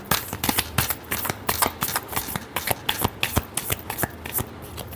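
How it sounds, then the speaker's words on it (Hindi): Tarot cards being shuffled by hand, a steady run of crisp riffling flicks and soft slaps repeating close by with no talking. "Last shuffle."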